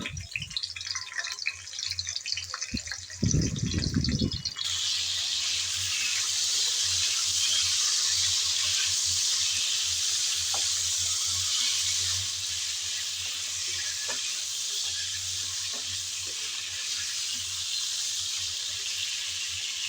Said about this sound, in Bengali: পটলগুলো দিয়ে নেড়ে চেড়ে ভালোভাবে ভেজে নেব।